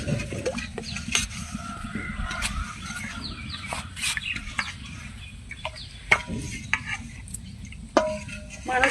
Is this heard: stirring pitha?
yes